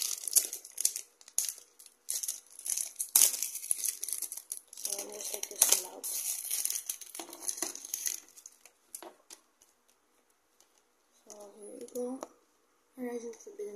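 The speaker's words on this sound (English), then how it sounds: "Let me take off all the plastic," Plastic shrink-wrap crinkles and tears off a boxed Horizon Forbidden West video game, bursts of close, crisp crackling and rustling with pauses, mostly in the first half, thinning to sparse handling noises later.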